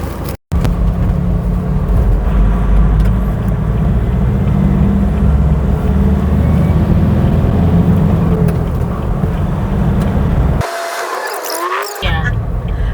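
Steady road traffic drones from inside a moving car, a loud continuous engine and tyre rumble that briefly cuts out near the end, with faint talk underneath.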